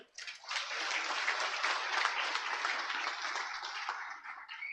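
A crowd at a Marathi political rally addressed by Pramod Jathar breaks into a dense wash of clapping that swells quickly, holds for about four seconds and then fades.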